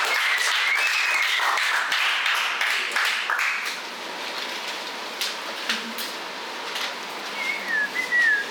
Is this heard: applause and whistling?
yes